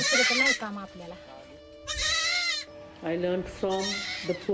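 Goats bleat loudly in several long, wavering cries, with short pauses between calls and a few fainter bleats nearby.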